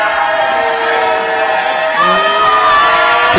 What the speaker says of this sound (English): A massive ovation from the crowd as he checks on.